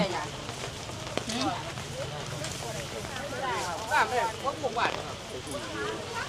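Rain falls steadily at a community market in Ban Kut Sombun, Ubon Ratchathani, Thailand, a soft continuous patter under people talking nearby.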